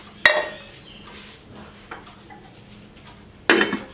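A cooking vessel and its lid are shifted aside in a kitchen, with two sharp metallic clanks, one near the start and one near the end, and softer knocks between them over quiet background.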